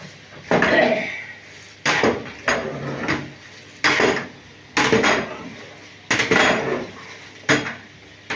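Potatoes tipped into a cooking pot with poultry, giving a series of sharp metallic clatters and knocks, about eight distinct bursts spaced irregularly, close and fairly loud with no talk.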